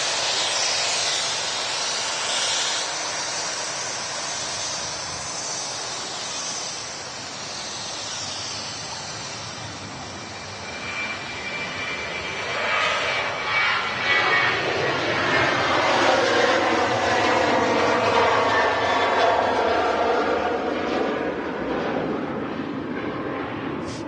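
A jet airliner taxiing to Terminal 2 at Manchester Airport whines and roars, its engine tone rising and sweeping as it passes closer, loud and continuous with no talk.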